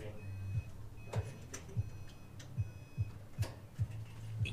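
A third-generation Subaru Impreza's warning alert sounds as a steady, evenly spaced run of short low ticking beeps, about two or three per second, over faint background noise.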